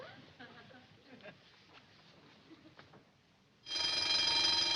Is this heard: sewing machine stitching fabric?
no